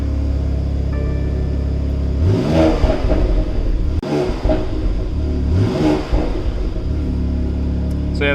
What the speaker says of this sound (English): I'm gonna do a few quick revs here.